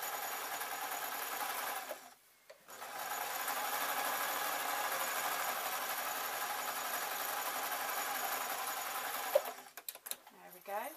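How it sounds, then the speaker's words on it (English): A domestic sewing machine stitches the top seam of a fabric scarf in a steady, even whir. It stops briefly once, then runs on and ends in a few short stuttering bursts. "So I'm literally sewing on because I'm on the wrong side."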